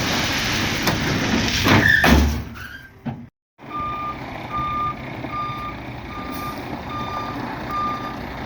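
A ballast-hauling truck backing up at a railroad site gives a steady train of evenly spaced reversing beeps over a low diesel rumble, after a brief louder clatter and a short drop-out near the start.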